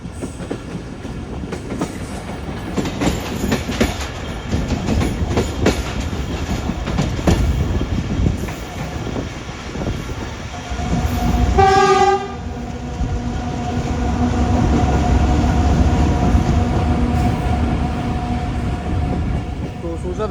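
A Karachi-bound Tezgam express passing through Jhampir railway station, a sustained loud rumble and clatter of wheels on track with a prominent horn blast partway through.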